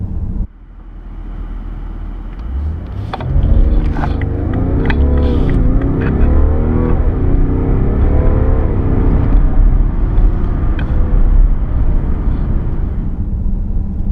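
A 2016 BMW 750Ld xDrive luxury sedan launches hard, its diesel engine note climbing through gear changes in a strong, close, continuous acceleration roar.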